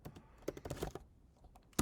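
Keystrokes on a computer keyboard entering a localhost address in a terminal, a quick burst of close clicks, a pause, then a final louder tap like the enter key.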